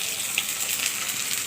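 Turmeric, chili and coriander powders fry with salt and a splash of water in a pan for a fish-belly and eggplant dish, giving a steady, even sizzle with a brief crackle, close and moderately loud with no voices.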